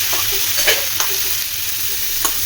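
Ridge gourd with turmeric stirred in a hot pan, a loud continuous sizzle broken by several spoon scrapes and knocks against the pan, heard alone without talk.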